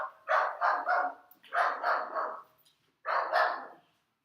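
A dog barks indoors in a room, three bursts of rapid barks spaced about a second apart, fairly close and clear with no talking.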